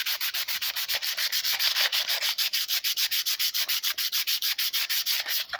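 Peugeot 306 body panels being hand-sanded before spray painting, a steady, close rasping scrub in rapid regular back-and-forth strokes, loud and continuous with no talk.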